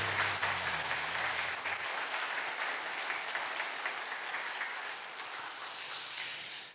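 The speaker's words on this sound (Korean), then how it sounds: "응원과 격려와 사랑과 칭찬을 담고 힘차게 박수" A Korean church congregation claps vigorously together during a Sunday worship service, a dense, even wash of applause that holds steady and stops abruptly at the end.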